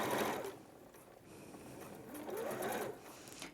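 A sewing machine stitches fabric layered with wadding for a pouch, a quiet steady mechanical whirr that speeds up and slows down in two runs, close by with no talking.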